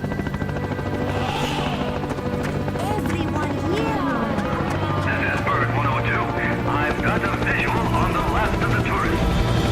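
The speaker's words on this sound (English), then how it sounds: "We are on our way to safety in the helicopter" A helicopter in the arcade game Let's Go Island flies steadily with a continuous rotor drone throughout, loud and near, while in-game voices talk over it and music plays.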